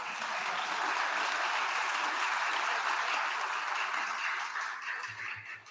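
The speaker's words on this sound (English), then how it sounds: "You can applaud to that, that's fine." A civic audience applauds during a mayor's State of the City address, sustained, full clapping that holds steady and then begins to taper near the end.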